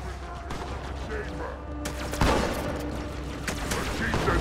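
Shotgun blasts and gunfire in Halo 2 Anniversary sound in a busy firefight, with one heavy boom standing out midway among ongoing shots, explosions and game ambience.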